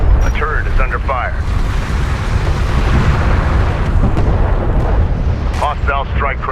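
In the Homeworld: Deserts of Kharak strategy game, a hostile strike craft is shot down in a loud, rumbling explosion that swells and fades, with a radio voice talking briefly before and after.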